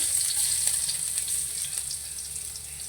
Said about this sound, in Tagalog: Lagyan natin ng mantika. Sabay lagyan natin yung bawang.